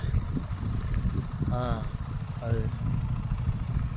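A motorcycle engine runs at a low, steady idle rumble close by, while someone talks over it in two short bursts.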